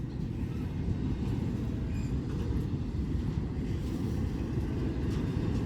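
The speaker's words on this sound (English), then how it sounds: "either this is this train or there's another one coming" A Norfolk Southern freight train rolls past near Sandusky and Huron, Ohio, as a steady, loud low rumble of wheels and cars that holds constant throughout, with faint traces of a voice.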